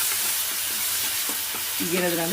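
Urad dal fries with pundi leaf paste in a pan for chitranna, giving a close, steady sizzle broken by rhythmic scraping stir strokes, with a brief voice near the end.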